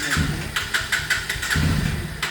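A Bajaj Pulsar 150 motorcycle in fresh, little-used condition runs close by, its engine putting out a steady low rumble broken by short, regular bursts.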